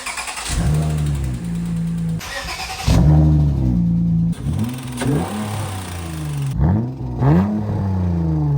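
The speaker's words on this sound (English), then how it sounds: "I have a pretty bad ticking noise coming from my engine." A car engine with a bad ticking noise idles and revs repeatedly, rising and falling in pitch, with a steady mechanical rattle running underneath.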